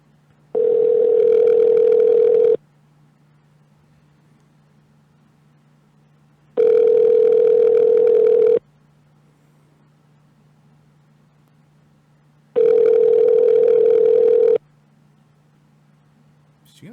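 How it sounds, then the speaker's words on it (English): A telephone rings three times through a handset during a prank call, each long steady electronic ring tone separated by several seconds of quiet line hiss, clear and close. "All right, phone's ringing."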